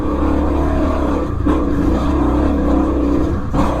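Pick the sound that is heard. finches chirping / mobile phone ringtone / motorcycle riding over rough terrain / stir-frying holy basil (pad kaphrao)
motorcycle riding over rough terrain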